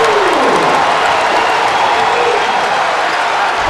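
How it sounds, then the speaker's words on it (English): A basketball crowd roars after a made basket in a Rochester versus Dayton game, a dense, loud wash of cheering and clapping that holds steady throughout. "Listen to the crowd."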